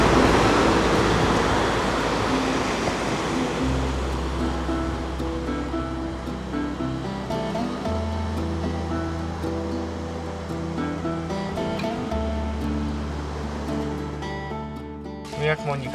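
Sea waves wash onto a beach on Spain's Costa de la Luz, a loud continuous surf rush that slowly eases, with low humming tones and other sounds layered beneath.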